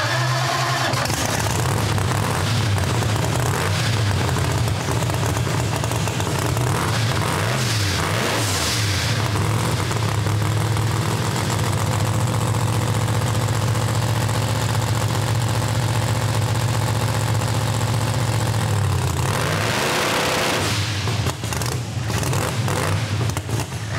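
A Pro Mod Hemi drag car engine held on the two-step launch limiter roars loud and continuous for about twenty seconds, dipping briefly near the end before picking back up, with no talking.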